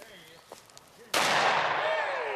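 A shotgun fires once, loud and close, during a hunt, with a sharp blast and a long rolling echo afterward, following faint quiet talk.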